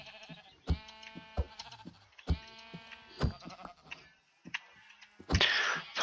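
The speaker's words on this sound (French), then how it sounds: "Je vais tuer des moutons" Sheep bleat in a modded Minecraft-style survival game with the Evil Hunter mod, several separate bleats spaced through the clip among game hits and thuds, with a louder bloody impact near the end and no talking.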